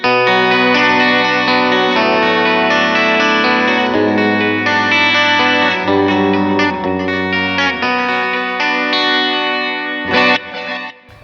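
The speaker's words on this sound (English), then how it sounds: "you could just use the coil tap that's on it to make it sound more stratty" Electric guitar using a coil tap for a Strat-like tone plays a bright, chimey melodic passage with chorus and reverb, sustained notes ringing continuously, loud and close with no voices.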